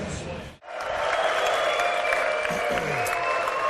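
Spectators at the US Open Racquetball Championship finals break into loud, sustained applause and cheering after a brief drop, the clapping dense and continuous with a commentator talking over it.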